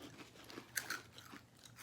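Crunchy Japanese fries-style snack chewed close up, with a few quiet, sharp crunches and bites standing out over a faint, steady background.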